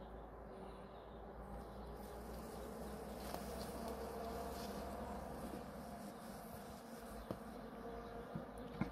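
Honey bees hum inside a multi-box hive opened for a December winter inspection of honey stores, a steady close buzzing drone with a few faint clicks and knocks, no speech.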